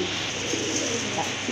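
An Indian Bombay pigeon coos nearby, a soft low burbling that runs steadily through the short moment against a noisy background.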